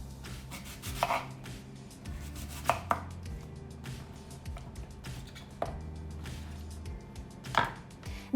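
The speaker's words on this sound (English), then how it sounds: "you need to wash and cut your apples" Knife chopping apples on a cutting board, irregular crisp thuds and cuts spaced a second or so apart, close and quiet, with faint clatter in between.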